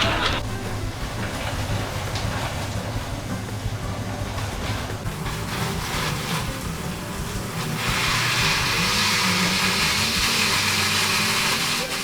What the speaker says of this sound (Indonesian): Oke, kita blender. tambahkan sedikit air biar mau jalan ya intinya.